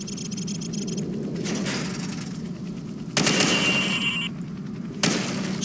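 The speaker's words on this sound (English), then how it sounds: "Now shoot at the targets while firing from the hip." Rifle fired from the hip in Call of Duty 4 on PC at a practice range, sounding as dense bursts of rapid gunfire separated by short pauses, loud and close with no talking.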